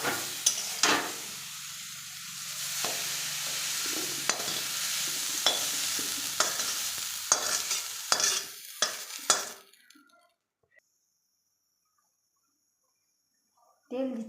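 Eggplant pieces sizzle and fry in oil while a spatula stirs them with repeated scraping knocks, then the sizzling cuts out into near silence before a brief final clatter.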